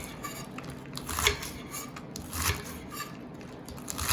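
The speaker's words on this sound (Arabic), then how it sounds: "هلا بدي افرم الخس مشان السلطه" Fresh lettuce being chopped for a salad in a home kitchen, with soft, irregular knife cuts and light crunches against a board, close and fairly quiet, with no voices.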